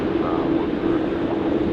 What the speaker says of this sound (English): Qantas 103, runway 16 right,